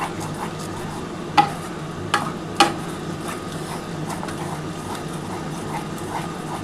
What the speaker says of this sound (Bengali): আগে প্রথমে কিন্তু আমি মশলাটা ভালো করে কষিয়ে নিচ্ছি